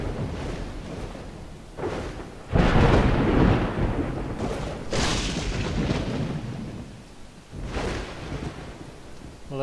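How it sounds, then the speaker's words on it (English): A thunderstorm in the Dawn of Man video game: heavy, steady rain with several deep rolling thunder rumbles that swell and fade, one strong crash near the start, and no talking. "Gotta love a storm and a blizzard."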